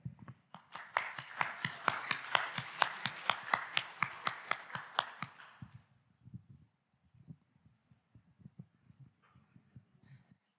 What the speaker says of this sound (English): Big applause for Cedric and Zdene.